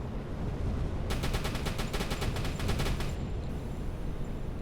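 Rapid ship gunfire from the submarine game Uboat, a fast regular burst of about twenty sharp reports over two seconds, loud above a constant low engine and sea rumble, with no talking.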